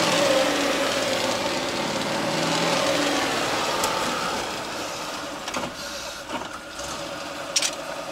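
The engine of a GAZ 3307 truck runs with a steady, loud mechanical drone that eases somewhat toward the end, joined by a few brief clunks.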